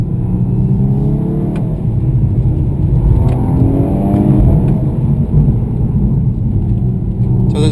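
A 2015 Volkswagen Scirocco R engine drones loud and steady from inside the car during a paddle-shift downchange, with a continuous rumble and rising whir.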